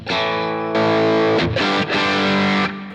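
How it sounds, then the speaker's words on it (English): An electric guitar runs through an engaged Earthquaker Devices Plumes overdrive, playing loud, gritty, sustained chords in a few long strums that ring out closely. "And that's the sound engaging the plumes."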